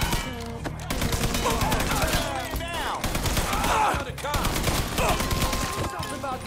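Gunfire from a firing squad in the video game Mafia III, a rapid fusillade of overlapping shots and bursts in repeated volleys, loud and close, mixed with game effects and voices.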